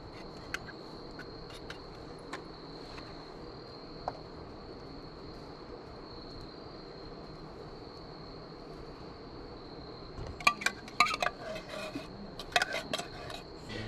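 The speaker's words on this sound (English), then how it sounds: "Now I'm just going to go and stir all this together, get it all mixed together good." Canned chicken pot pie filling stirred in an Omnia stovetop oven during camp cooking: a steady low hum runs throughout, then quick metallic scrapes and clicks of a spoon against the pan cluster near the end.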